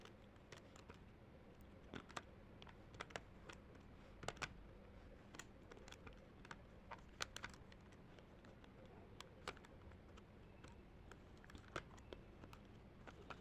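Calculator buttons pressed one after another to enter a limits equation, a long run of faint, irregular clicks and taps spaced through the stretch against a quiet room background.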